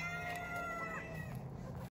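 Backyard homestead chickens clucking with a rooster-like crow, close and steady on a mild day, with a busy rustling background and no talk.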